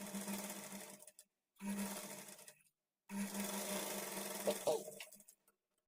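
A tailoring sewing machine stitches a folded edge on a blouse in three close bursts of steady humming, separated by short silent pauses.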